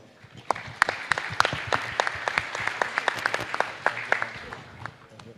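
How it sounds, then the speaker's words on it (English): An audience at a panel discussion in Jakarta claps in sustained applause, many hands at once, moderately loud and steady for several seconds. "let's give them a big round of applause."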